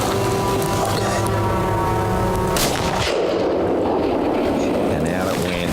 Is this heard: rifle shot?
yes